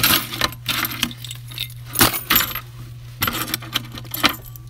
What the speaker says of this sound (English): More van keys?